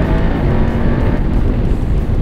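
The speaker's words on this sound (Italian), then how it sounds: "sentite agli altri regimi come funziona bene anche il quick shift" A BMW F850GS 2018 adventure motorcycle engine running on the move through the quick shifter, a loud, steady close engine roar with wind noise and no clearly separate shift bursts.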